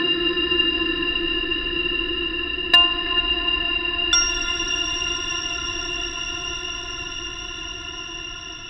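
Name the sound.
reverb plugin effect applied to audio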